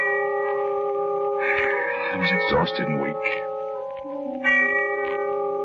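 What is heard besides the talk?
distant church bell tolling, radio drama sound effect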